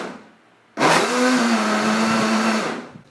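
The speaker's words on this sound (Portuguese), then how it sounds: "e liquidificamos ele só na função pulsar" A kitchen blender pulses unflavored gelatin with other ingredients, starting with a loud whirring roar after a quiet moment, holding a steady motor drone with a faint whine, then winding down.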